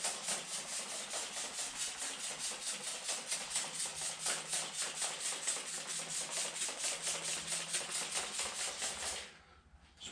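Rhythmic back-and-forth strokes of 2500-grit sandpaper wet sanding the paint on a 1955 car, steady and close for about nine seconds before stopping abruptly.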